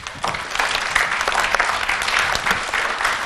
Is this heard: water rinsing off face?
no